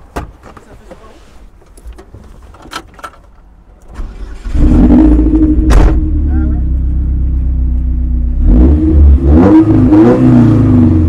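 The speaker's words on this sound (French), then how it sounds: "Est-ce que tu peux nous la démarrer pour voir ce que ça donne?" An Opel Speedster's engine cranks and catches, then settles into a steady, loud idle with a brief rev, close up after some handling noises, with people talking nearby.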